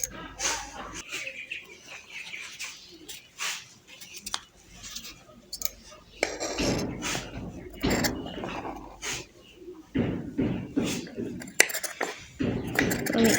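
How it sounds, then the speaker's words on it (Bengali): Scissors snip through cloth in short, repeated crisp cuts while a chemise pattern is cut out for a 29–30 inch body, close and fairly quiet, with someone talking over the cutting. "আমি এই পাশ থেকে আগে হচ্ছে কাটিংটা করে নিচ্ছি।"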